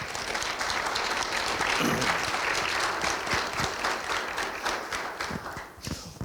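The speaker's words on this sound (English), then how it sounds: "That deserves a huge round of applause." Audience applause at a school district State of the Schools event, a loud burst of many hands clapping that gradually thins toward scattered claps.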